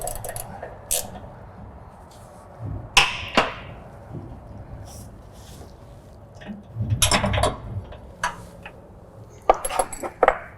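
A 13mm socket and ratchet working a bolt on a John Deere Z9 mower's belt guide, giving scattered metallic clicks, clinks and taps with quiet gaps between them.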